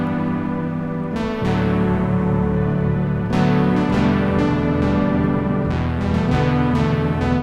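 Night Rider synth preset from the Electron expansion for the Natonic 2 plugin, playing full sustained chords that shift several times, rich and layered throughout.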